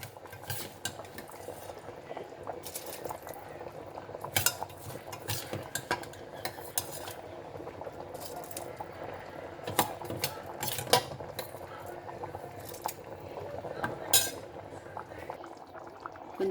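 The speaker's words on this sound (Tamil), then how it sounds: "இந்த ரைஸ் வந்து நல்லா கொதிக்க ஆரம்பிச்சிருச்சு" Jeeraga samba rice boiling in a pot for restaurant-style mutton biryani, with a steady bubbling simmer broken by scattered clinks and scrapes of a spoon stirring, close and continuous.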